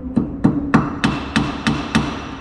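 A hammer taps a bolt, likely a cotter pin, on the front suspension of a Holden VL Turbo Commodore: seven sharp, evenly spaced metallic knocks, close and fairly loud, each ringing briefly.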